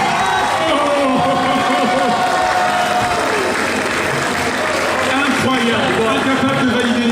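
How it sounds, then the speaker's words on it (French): Audience applause at a gaming event crowd, filling the space with dense steady clapping and crowd noise from start to finish, with voices mixed in underneath. "On l'applaudit bien fort."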